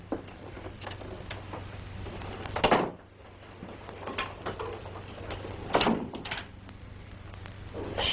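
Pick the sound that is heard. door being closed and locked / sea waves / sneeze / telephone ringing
door being closed and locked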